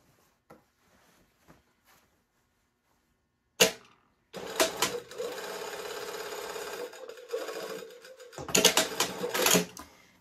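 Sewing machine basting two yoke pieces of a shirt dress together at a quarter-inch seam allowance: a few faint clicks, then a sharp burst, then a loud steady whir of stitching that pauses briefly and resumes close up.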